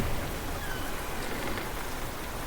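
Wind and rain effect in an audiobook: a steady, dense rain hiss fills the whole stretch at an even level, with no narration over it.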